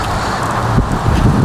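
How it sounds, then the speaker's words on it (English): Strong, cold wind blowing outdoors. A loud, continuous rumbling buffet with uneven gusts. "It's really windy, it's really cold."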